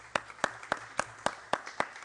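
A handful of sparse, evenly spaced claps sound faintly in a parliamentary standing committee room after a report is approved, about eight distinct hand claps with no crowd behind them.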